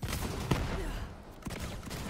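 Gunfire in Borderlands 3 sounds as a dense, rapid burst of shots, loud and continuous, with a heavier thump partway through and scattered follow-up shots.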